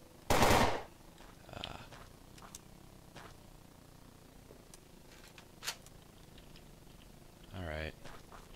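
Bursts of AK rifle gunfire in the zombie game Fort Zombie, a loud rapid volley at the start, then quieter scattered shots and a final short burst amid faint background sounds.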